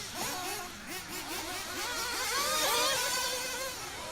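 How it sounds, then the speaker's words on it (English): Several 1/8 scale nitro off-road RC cars buzz and rev around a track, their shrill engine notes overlapping in quick, repeated rises and falls, steady and moderately distant, with no voices. "1/8 scale nitro off-road cars."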